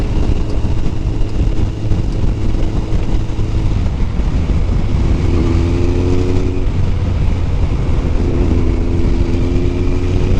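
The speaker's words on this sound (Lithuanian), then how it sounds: "Bentlis duoda gazo" A Bentley car accelerating on the road, heard from a Kawasaki GTR 1400 motorcycle, with a steady loud engine drone and rising tones that step up twice, mixed with wind and road noise.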